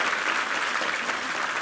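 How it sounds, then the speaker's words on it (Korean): Congregation applause for a church choir at a Sunday worship service, dense continuous clapping filling the room, loud and even from start to finish. "우리 이부성가대 한번 힘찬 격려의 박수 부탁합니다"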